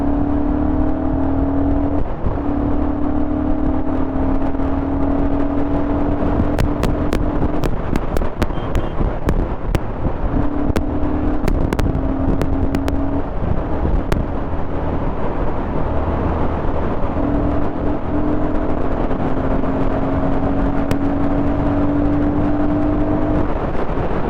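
A Royal Enfield Guerrilla 450 motorcycle rides at speed with a loud, steady engine drone and constant wind roar that barely changes throughout.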